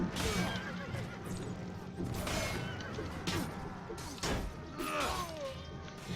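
Horse neighing in the Mount & Blade Warband mod A Clash of Kings, amid a busy battle mix of crashes, clanks and clip-clop, with several whinnies rising over the steady din.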